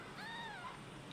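A single short, thin meow from a newborn kitten, faint and close, with quiet background hiss.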